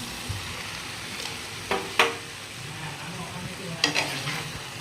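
Boiled macaroni pasta is stirred in a pan with soy sauce, a soft steady sizzle broken by a few sharp scrapes and clinks of the spoon against the pan, close and without speech.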